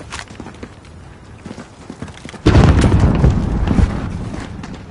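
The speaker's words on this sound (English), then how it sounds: "There's still a mortar out there" Mortar rounds land in Call of Duty Modern Warfare: scattered thuds and crackles give way to a sudden heavy explosion midway, followed by a loud rumbling, debris-filled roar that slowly fades.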